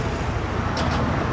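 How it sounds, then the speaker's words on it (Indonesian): A Honda CBR 150 motorcycle engine runs at a steady idle nearby, producing a continuous, even rumble throughout with no notable revving. "Ini mesin hidup ya. Mesin hidup, bukan saya pencet starter itu ya."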